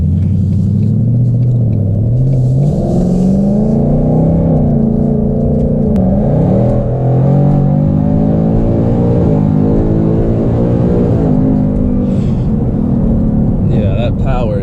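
Supercharged Ford Mustang pulls hard under acceleration, its loud exhaust rumbling and rising in pitch through gear changes, heard close from inside the car while people talk over it.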